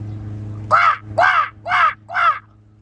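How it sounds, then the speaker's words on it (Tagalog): Four harsh crow caws in an even rhythm, fairly close and loud, over a low steady background hum. "Mga Krabs, may uwak oh."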